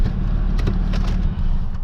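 A Nissan Maxima with faulty brakes keeps rolling slowly while it is being parked at a service garage, giving a low, steady engine and tyre rumble with no clear stop.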